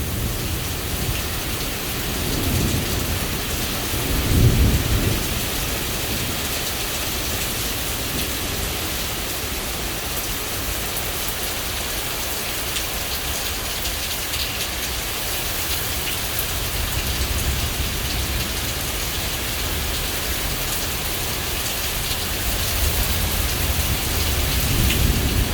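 Heavy rain pours steadily and loudly throughout a severe thunderstorm, with low rumbles of thunder swelling around the fifth second and again near the end, no voices.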